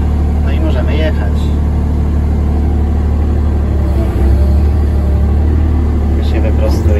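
An excavator's diesel engine rumbles steadily and loud up close as the machine begins to move on soggy ground at a house drainage site, with a slight rise in engine load midway.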